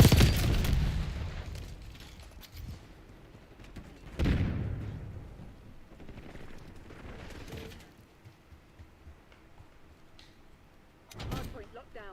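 Semtex grenade blasts in Call of Duty Black Ops 6 multiplayer, a sharp boom at the start and another a few seconds later, then a third near the end, with announcer voice lines between them.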